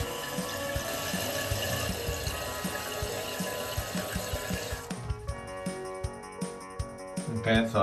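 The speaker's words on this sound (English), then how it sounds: "now I'm gonna open the valve and do the same leak check." A toilet tank refills with water after the supply valve is opened during a leak repair: a steady, loud rush of flowing water that drops to quieter trickling and scattered clicks partway through.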